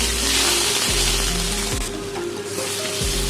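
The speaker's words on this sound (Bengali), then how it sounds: "সুন্দর করে আমি ভেজে নেব।" Fish-head moong dal masala with ginger paste and whole garam masala fries in a pan, giving a loud, steady sizzle with occasional stirring scrapes and no talking.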